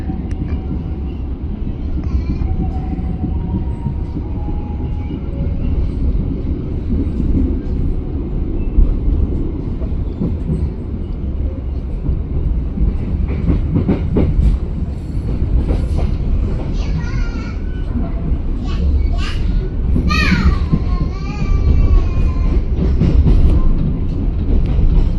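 Passenger train KA Motis running fast on rails, with a continuous loud rumble from inside the carriage, clattering wheels and a brief squeal or horn-like tone near the end.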